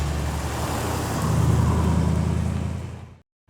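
A 1955 Hudson Italia with a swapped engine runs steadily nearby, a loud, even mechanical rumble that swells slightly midway and then cuts off abruptly.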